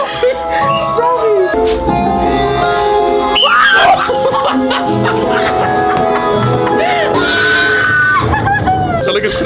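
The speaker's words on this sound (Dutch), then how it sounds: "Stop maar schreeuwen!" Frightened screaming inside a horror haunted house attraction, several high shrieks and yelps over panicked shouting and gasps, loud and close amid eerie background sounds.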